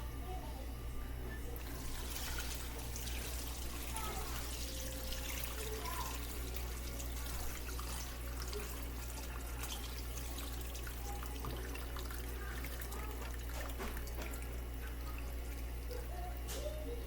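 Still-hot homemade chicken bone broth being dumped out of a pot, a steady liquid pour and splash with drips running continuously for the whole stretch, close and moderately loud.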